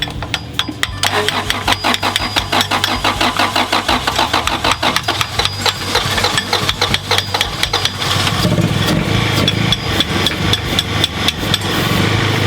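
Turbocharged Honda CRX engine with suspected stuck injectors cranking and catching, then running loud and continuous with a steady mechanical rhythm that swells toward the end.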